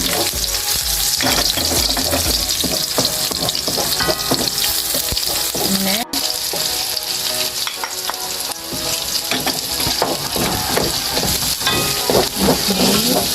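Garlic and onion sauté in hot cooking oil for Bicol Express, a continuous loud sizzle and crackle with scraping and stirring clatter from a utensil in the pan, one brief sharp knock partway through, no voices.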